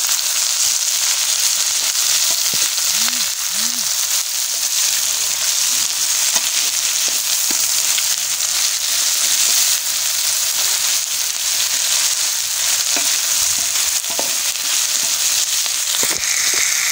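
Food fries steadily in a pan until golden brown, giving a continuous close hiss with scattered crackles and pops and no talk.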